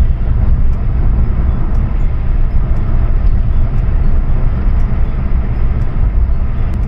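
Car cruising in fourth gear at about 50 with a light foot on a slight uphill, a steady loud engine and road drone heard from inside the cabin, with no one speaking.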